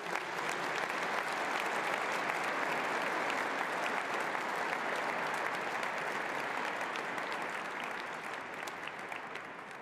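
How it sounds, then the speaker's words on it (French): A congregation at a church ordination applauds steadily for about ten seconds, dense even clapping from a large indoor crowd that fades slightly toward the end. "On peut applaudir."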